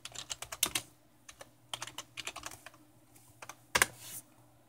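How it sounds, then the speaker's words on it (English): Typing on the keyboard of a Dell Precision T5500 desktop computer, a burst of close, crisp key clicks in an uneven rhythm, with a few louder strikes and short pauses and no talking. "I'm gonna type control panel."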